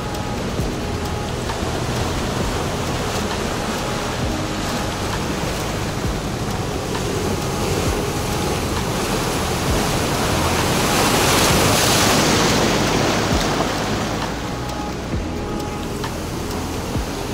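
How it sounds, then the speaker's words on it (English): Large ocean waves crash on rocks at a beach in Puerto de la Cruz, making a loud, continuous roar of surf that swells to a peak partway through. "That's the danger with getting too close to the waves. You get splashed. these are not small waves either."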